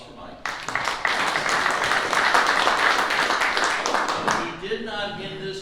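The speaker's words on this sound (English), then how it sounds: "Round of applause for Mike." An audience at a conservative leaders forum bursts into loud, sustained clapping that swells over several seconds and then fades, with a voice resuming at the end.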